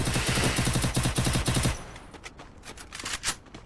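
Rapid automatic gunfire rings out loudly in a shooting video game, a dense burst of shots that stops abruptly and gives way to quieter scattered in-game sounds.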